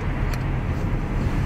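Road traffic rumbles steadily, a loud, continuous low roar of passing cars heard close by, with no pauses and no talk over it.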